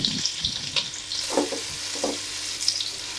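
Cashews, onion and green chillies fry in oil in a pan for chicken fried rice, giving a steady close sizzle with occasional stirring scrapes and soft clinks throughout.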